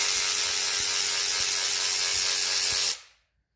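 On a Gen 1 Coyote 5.0 engine, cam bolts are being loosened while the cam is held with a crescent wrench, giving a loud, steady mechanical rasp with faint periodic ticks that cuts off abruptly.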